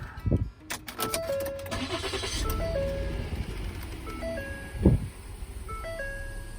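A 2015 Ford Explorer XLT engine cranks and catches with a short burst. Electronic chime tones ring around it, and a second engine surge follows near the end.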